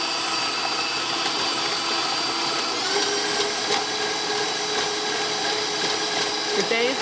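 An electric mixer whirs steadily as it blends German cherry cake batter, a constant close motor drone with a few faint clinks.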